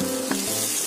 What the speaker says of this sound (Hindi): अब हम इसमें पोहा डालेंगे